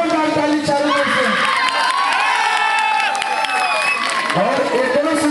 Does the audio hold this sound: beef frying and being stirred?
no